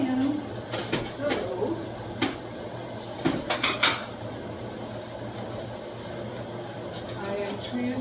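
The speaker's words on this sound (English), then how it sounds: "I am transferring all of these pies to single serve dishes." Dishes and pans clatter in a kitchen as pies are moved into single-serve dishes, with several sharp clinks and knocks scattered across the stretch over a low steady hum.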